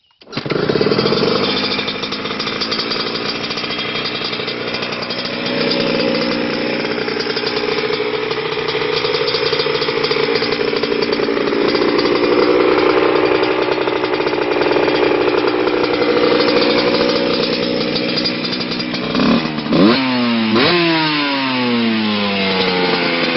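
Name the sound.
motorcycle engine running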